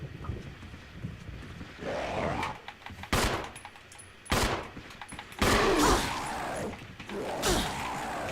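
Video game gunfire in Resident Evil: scattered bursts of rapid shots and single blasts at moderate level, separated by quieter gaps, with a low game ambience underneath.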